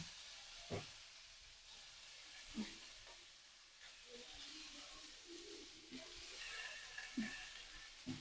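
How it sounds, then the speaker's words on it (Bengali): Potatoes frying in a pan on a home gas stove, a steady soft sizzle with faint hiss running throughout, broken by a few light clinks and scrapes of a utensil. "জামাইয়ের জন্য আলু ভাজছে, এতটা আলু, বাপরে বাপ।"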